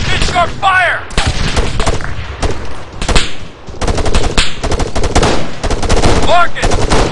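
Dense, loud bursts of automatic rifle and machine-gun fire in an ArmA 3 battle, with rapid overlapping volleys and single shots, while shouted radio-style commands and voices come through between and under the shooting.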